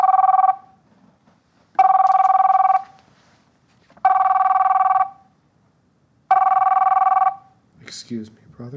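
A work telephone rings in four evenly spaced bursts of about a second each, loud and close, with short pauses between them, followed by a brief murmur of a voice and rustling at the end.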